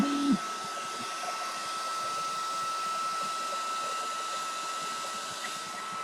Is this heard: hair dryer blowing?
yes